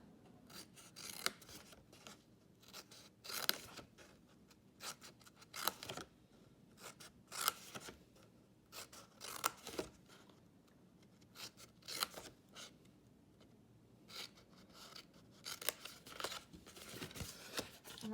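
Scissors snipping scored paper squares away for a faceted bauble craft, a steady run of quiet, close cuts and paper rustles repeating irregularly over a long stretch without speech.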